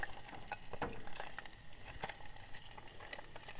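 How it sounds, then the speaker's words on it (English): Meat fries in a heap of rendered fat at a campsite, a steady, soft crackle with scattered pops, fairly quiet and without voices. "And we'll just keep frying this off."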